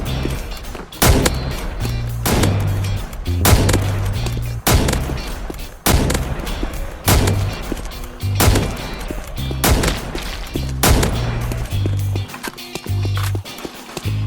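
An AWP sniper rifle from a 3D military gun addon for Minecraft fires repeatedly, loud sharp cracks roughly every one to one and a half seconds, each followed by a bolt-action clatter, with no voices.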